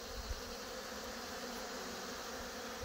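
Honey bees swarming around hives in a bee yard during robbing, a steady dense buzz that stays fairly faint and unbroken with no voices.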